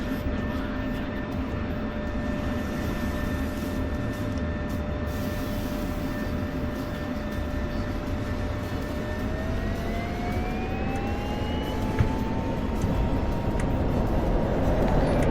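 An F-16 Viper in a flight simulator game roars steadily on afterburner, a loud continuous jet rumble with a whine that climbs in pitch partway through, with no talk over it.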